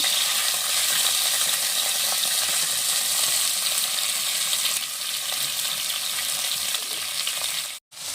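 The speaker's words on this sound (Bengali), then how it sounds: "তেল গরম হয়ে গেছে, এখন আমি মাংসের কিমাটা দিয়ে দিচ্ছি।" Minced chicken for momos sizzles loudly in hot oil, a steady dense crackle that fills the whole stretch, dropping out for a moment near the end.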